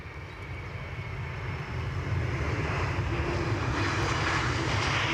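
A passing airliner with large winglets gives a continuous engine roar that swells after a couple of seconds and stays loud and close to the end.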